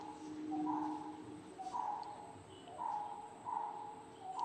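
A recorded great barbet call plays back in a nature museum: repeated short hooting notes at an even rhythm, fairly faint over a low room hum.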